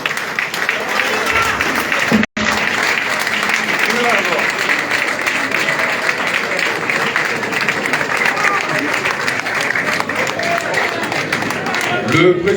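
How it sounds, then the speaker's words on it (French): A crowd at a political rally in Yopougon applauding and cheering loudly and continuously, dense clapping with shouts, and a voice speaking over it. "Le président Adama Bictogo, qu'on applaudit encore très très fort, mesdames et messieurs."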